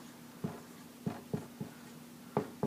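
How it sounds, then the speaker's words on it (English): A marker writes on a board with a quick series of soft, scratchy strokes, about six short squeaks spaced irregularly over a low, steady hum. "So let's just write 3 keys"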